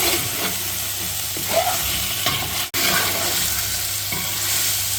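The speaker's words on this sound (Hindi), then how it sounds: "और कर देते हैं इसको मिक्स" Spices such as star anise, black cardamom, black pepper, cinnamon, nutmeg powder, cloves and cumin being stirred into beef nalli pulao in a pot, a steady scraping stir over a soft sizzle, close and continuous with one brief dropout.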